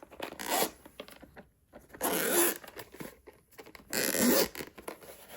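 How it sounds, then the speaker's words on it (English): A Razer Wolverine V3 Pro controller carrying case unzipped up close in three separate long rasping pulls, each a bright zip followed by quiet handling. "The zipper feels nice."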